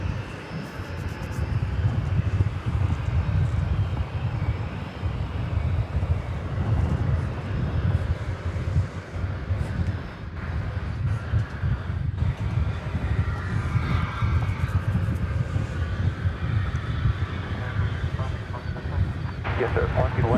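A small Cessna Super Cargomaster arriving at DFW airport from Abilene gives a steady, distant engine drone that runs unbroken under a constant broadband airport roar.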